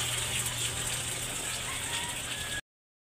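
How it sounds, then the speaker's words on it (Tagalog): A Samsung automatic washing machine runs its wash cycle while water keeps filling without stopping, giving a steady close whir with a low motor hum, rhythmic mechanical ticking and rushing water, alone and cut off abruptly near the end. "So nagwash na siya pero yung tubig tuloy-tuloy pa rin."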